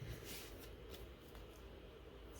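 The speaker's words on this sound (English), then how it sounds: "when they're shuffling their deck" A deck of Yu-Gi-Oh cards being shuffled by hand, soft papery riffles and flicks close up and fairly quiet.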